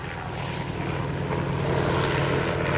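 An Air America propeller airplane engine drones loudly and steadily, a dense continuous roar that grows slightly stronger over its length with no voices.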